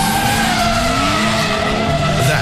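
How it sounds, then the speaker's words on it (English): BF Goodrich G-Force street tires on a closed course, a loud sustained squeal and skid with wavering pitch over engine roar, lasting the whole stretch without pause. "That is the actual sound of B.F. Goodrich G-Force tires on a closed course"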